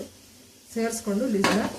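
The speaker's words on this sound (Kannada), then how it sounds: "ಕುಕ್ಕರ್ ಲಿಡ್ನ ಕ್ಲೋಸ್ ಮಾಡ್ತಾ ಇದ್ದೀನಿ" A pressure cooker lid being closed in a kitchen: a short pair of metallic clanks and scrapes against the pot, with a brighter clatter at the end, close and fairly loud after a quiet moment.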